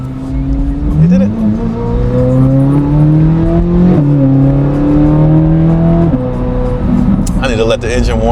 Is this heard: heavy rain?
no